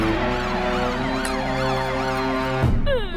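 Wailing emergency siren in a movie scene, a loud, steady rising-and-falling tone sweeping continuously, with a thud and a brief scrape near the end.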